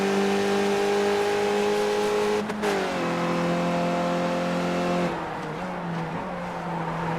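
An iRacing race car engine holds a loud, steady high-pitched drone. It drops in pitch twice as the car brakes hard into the final chicane, with a faint tyre scrub.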